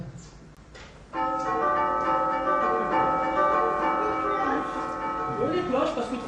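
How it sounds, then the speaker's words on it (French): Church bells peal for a celebration of three weddings, a rich ringing of sustained tones that swells in loudly after a quiet opening and keeps resonating throughout, with faint background activity beneath. "Les cloches, parce que 3 mariages sont célébrés."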